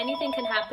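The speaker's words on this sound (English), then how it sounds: "Sorry that the phone keeps ringing" A telephone rings with a steady melodic ringtone in a room while a person talks over it.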